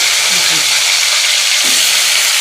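Small fresh fish frying in hot oil, a loud, dense, continuous close sizzle filling the whole stretch with no break.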